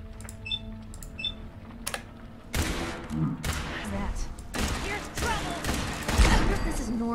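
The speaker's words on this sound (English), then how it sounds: "I blowed up that guy by shooting his turret" Gunfire and a Mark III turret blowing up in Fallout 4, heard as several bursts of shots followed by a louder explosive rumble, with game sounds and voices talking throughout.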